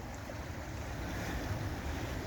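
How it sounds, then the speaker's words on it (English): A river flowing past a garden allotment plot, heard as a steady, broad rush of running water close by, mixed with some wind noise on the microphone and no talking. "And that's the river flowing."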